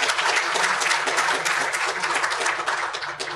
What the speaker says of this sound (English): So could we give them a round of applause as well?